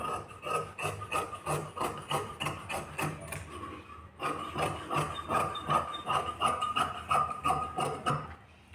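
Scissors cut through Paithani saree fabric for a blouse, producing a steady series of crisp snipping and rasping strokes at a regular rhythm, with a short pause before the cutting resumes.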